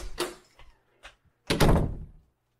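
A door closing indoors gives a few light knocks and bumps, then a heavier, louder thud that fades out, with no talk over it.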